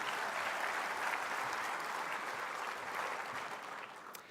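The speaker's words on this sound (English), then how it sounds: "yes, you can applaud" An audience at a conference applauds in a broad, even roar of clapping heard from a slight distance, holding steady before easing off toward the end.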